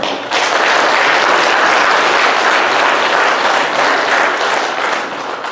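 A church congregation at a Sunday service claps together in sustained, dense applause that starts abruptly and holds steady and loud throughout, with no talk over it.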